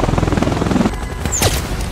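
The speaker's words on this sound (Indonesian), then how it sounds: "tiba-tiba musuh melepaskan tembakan" Enemy gunfire erupts in a film action scene at a helicopter landing zone, a dense burst of shots and impacts with a rushing whoosh, loud and close over a rumbling background.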